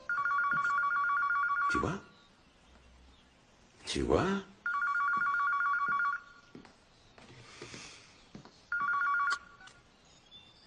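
An old-style telephone bell rings in three separate bursts, each about two seconds of rapid metallic trilling, with a voice speaking briefly in the gaps between rings.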